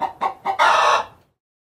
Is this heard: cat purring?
no